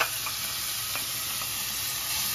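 Diced pancetta sizzles steadily in a pan with onion just added, a constant close frying hiss with a few faint scrapes and no talking.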